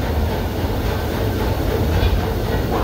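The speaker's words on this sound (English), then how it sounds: "welcome aboard the Disneyland Railroad" Disneyland Railroad excursion train running, a steady loud rumble of wheels and carriages with faint rhythmic clatter, continuous and close.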